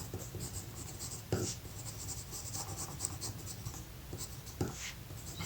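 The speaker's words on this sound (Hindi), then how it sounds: "तो लिख लेते हैं यहाँ पे" Pen or chalk writing strokes while solving a Class 10 maths problem on the area of circles, steady scratching with a few sharper taps, close and fairly quiet.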